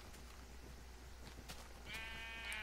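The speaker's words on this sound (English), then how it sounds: "Whoa, sheep." Sheep bleating in the video game Minecraft, a faint wavering bleat rising near the end over quiet background noise.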